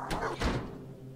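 A door in the horror video game Claire opens or shuts with a single heavy thunk, followed by a short fading rumble.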